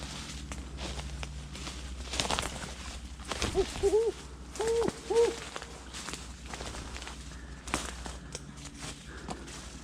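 A person imitates an owl call in Kentucky woods, a few hooting tones repeated in short pairs over a quiet outdoor background with faint rustling and footsteps.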